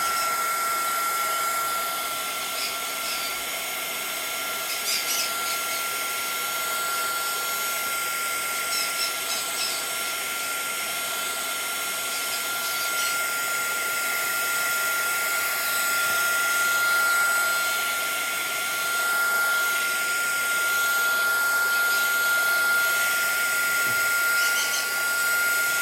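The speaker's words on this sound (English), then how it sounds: "So I'm going to dry this using my heat tool." A craft heat tool blows hot air to dry shimmer spray on a mixed media piece, a continuous steady whirring hiss with a faint high whine that holds at a fairly even level throughout.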